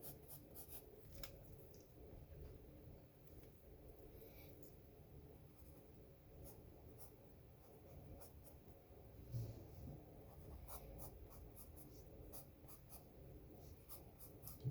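A pencil scratches and rubs steadily on paper while sketching a cartoon character's clothes, quiet close-up strokes with small taps and pauses, and no speech.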